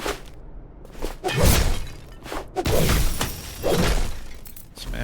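Objects shattering in The Last Hero of Nostalgaia video game, a series of four or five loud breaking crashes spaced about a second apart, each with crunching debris, heard alone without talk.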